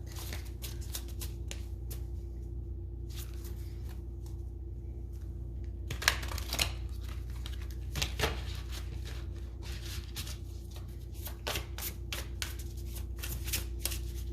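Tarot cards are reshuffled by hand in a quiet room, soft riffling and slapping sounds in scattered short bursts, fairly close and low in level, with a few sharper card snaps, no talking.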